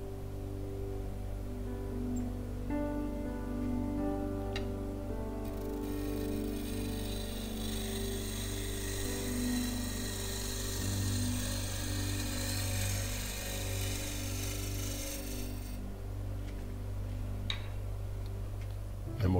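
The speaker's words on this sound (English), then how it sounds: "So I'm going to continue on with the spindle roughing gouge and just remove a little material at a time." A spindle roughing gouge cuts a walnut rolling pin spinning on a lathe, a steady low motor hum with a scraping, hissing cut that swells in the middle stretch and then eases off.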